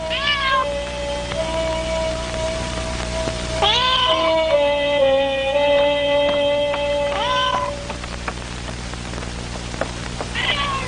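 A cat meows several times, drawn-out and close, with pauses between calls over a steady background hiss like rain.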